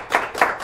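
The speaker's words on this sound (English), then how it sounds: "Give a round of applause" A short burst of audience applause at a live talk show in El Monte, with a few sharp, closely spaced claps that rise and fall quickly.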